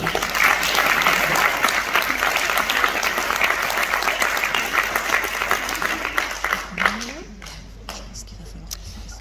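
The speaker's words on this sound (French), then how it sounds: "Vous pouvez les applaudir." An audience at a spring stage show applauds the performers with steady, dense clapping that carries on for several seconds and then tapers off into a few scattered claps.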